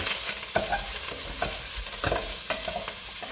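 Food frying in a little oil in a pan, a steady hiss and sizzle close by with irregular scrapes and knocks from stirring, no talking.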